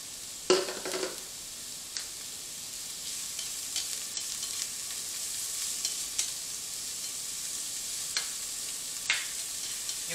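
Chopped onions sweat and sizzle in a heated pot as a one-pot gluten-free hamburger macaroni begins, giving a soft, steady hiss with a few clinks and stirring knocks, close and alone.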